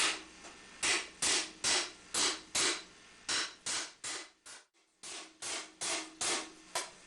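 A steel barrel helm top rests on a flat-top stake and takes about a dozen sharp, ringing hammer blows in a steady rhythm, with one brief pause midway, close and loud.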